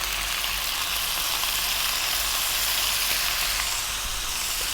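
Onion, garlic, salt, black pepper and fresh chili fry in a hot pan, giving a loud, dense, continuous sizzle that stays steady and close throughout while being stirred.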